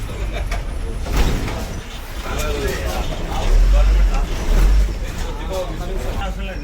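An RTC city bus running from the Medchal depot toward Secunderabad, heard from inside as a steady, loud low engine rumble that swells and eases, with people talking over it throughout.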